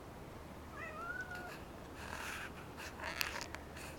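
A cat gives one rising and falling meow, close by and fairly soft. After it come some faint rustling and a small click against a quiet room.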